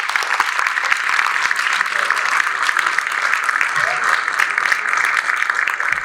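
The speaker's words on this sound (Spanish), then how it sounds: "le brindamos un aplauso a Sergio también." Steady applause from an audience at a university panel discussion on the future of the university system and social sciences, a dense, even clatter of many hands sustained for about six seconds without pause.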